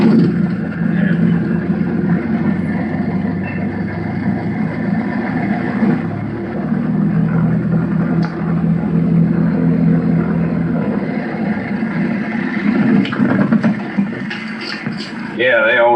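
Small propeller airplane running at Kent State Airport, a steady droning engine hum held loud and close throughout, with voices talking over it.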